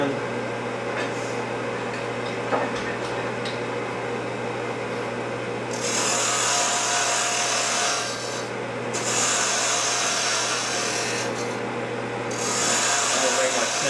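Wood lathe spinning a goblet blank as a tenon is cut, a steady low motor hum joined by loud hissing scraping bursts of the tool against the wood, stopping and restarting, close up.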